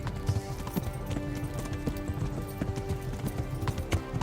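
Horse hooves gallop in a horse race in a video game, a fast, steady, close clip-clop rhythm running throughout without talk.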